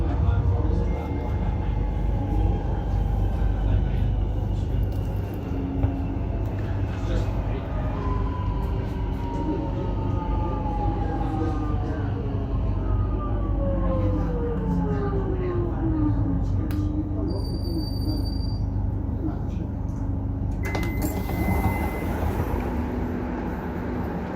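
A suburban train on Melbourne's Belgrave Line rolls along with a continuous rumble, passing level crossings and stations, while a high tonal whine sweeps and a brief warning tone sounds near the end, heard from onboard.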